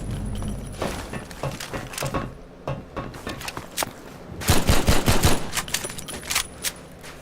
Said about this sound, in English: The MP7 also sounds real nice.